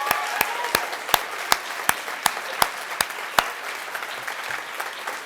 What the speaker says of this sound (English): So huge round of applause to all of our winners.